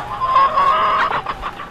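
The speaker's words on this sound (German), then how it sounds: "Laut gackernde Hühner" Farmyard chickens cluck loudly and close by, a rooster's crow rising through the cackling in a short noisy burst.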